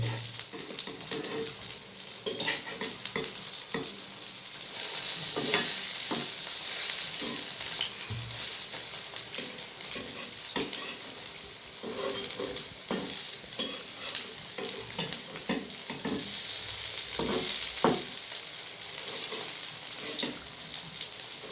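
Masoor dal and cauliflower pakoras deep-frying in oil, a continuous loud sizzle with repeated scraping and clinking as the fritters are turned over and over.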